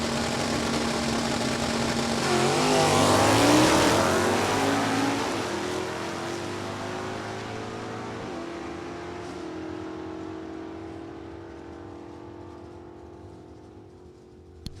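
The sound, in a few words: drag racing cars accelerating down Beech Bend Raceway strip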